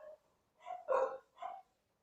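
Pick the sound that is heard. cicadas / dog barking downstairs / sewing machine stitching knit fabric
dog barking downstairs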